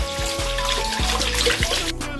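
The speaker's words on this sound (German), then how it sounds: "Bei jeder Vorbereitung gut die Hände waschen." Hands being washed under running water before cooking, a steady trickle and splash with several brief gurgling pulses as the flow is disturbed, close and continuous.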